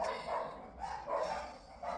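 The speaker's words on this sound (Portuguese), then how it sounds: "acho que o cachorro não vai parar de latir não" Dogs bark next door at a house, repeated barks in uneven bursts, moderately close and fairly loud, with no talking over them.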